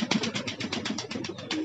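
Pigeons coo close by in a steady run of soft, rhythmic throaty pulses, about a dozen in under two seconds.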